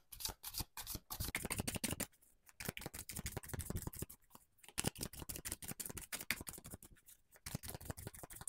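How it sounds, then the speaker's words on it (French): Tarot cards shuffled for a reading, rapid close riffling and snapping of the deck in busy bursts broken by a few brief pauses. "le deuxième tirage de tarot"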